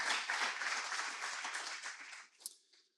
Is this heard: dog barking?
no